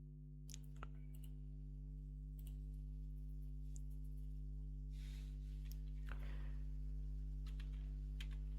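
Typing on a computer keyboard, with scattered soft key taps and a brief burst of quicker typing over a steady electrical hum, faint and close.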